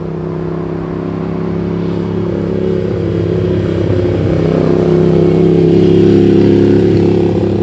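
A Ducati Monster 796 fitted with an SC Project full exhaust system runs close by with a steady, loud engine drone that rises gradually in level, with no talk over it.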